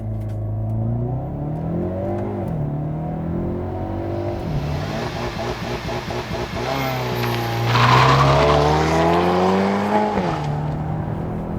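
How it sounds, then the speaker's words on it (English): A 2021 Hyundai Veloster N with a dual-clutch transmission launches hard under launch control, its 2-liter engine revving up loudly through rising gear pulls with brief dips at each shift, heard close from inside the car. "'21 Hyundai Veloster N DCT with launch control."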